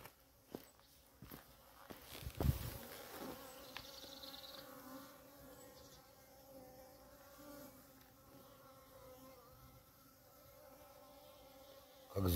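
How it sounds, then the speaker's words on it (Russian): Steady insect buzzing hums through the clip, moderately close, with a few sharp knocks and rustles early on. "Пчелы гудут."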